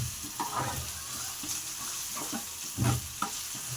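Egg and chicken curry being stirred in a frying pan, with soft scraping strokes and a low sizzle at an even, close level, and a few louder clanks and scrapes standing out.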